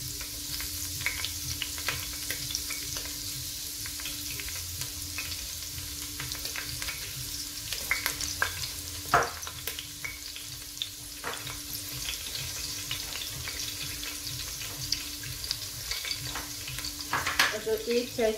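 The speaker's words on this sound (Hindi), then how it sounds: "इस स्टेज पे आप अपने प्याज तल के निकाल लें और उसके बाद ये लहसुन अदरक का पेस्ट डालें।" Ginger garlic paste and green chillies fry with onions in a pan for lamb rice, making a continuous moderate sizzle with scattered spatters and occasional sharper clinks of stirring, and no voices.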